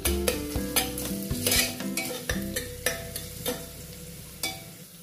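Chopped onions sizzle and fry in a pan for black chickpea curry, with a steady hiss and repeated sharp scrapes and clinks of a spoon stirring against the pan, fairly close and with no talking.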